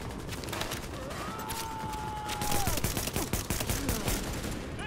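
Rapid gunfire from the video game The Division crackles in dense bursts, a mix of automatic volleys and sharp single shots that grow louder and busier midway, heard up close.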